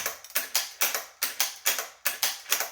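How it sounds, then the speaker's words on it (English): Rapid metallic clacks from working the bolt of a left-handed Browning A-Bolt Medallion rifle in 7mm Remington Magnum, close and crisp, repeating in quick rhythmic bursts of lift, pull and push. "I've never worked a bolt with my left before."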